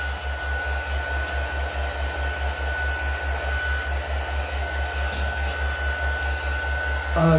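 A blow dryer runs steadily on a craft workshop table, drying paint on paper with a continuous, loud whirring roar that holds for the full length with no talk.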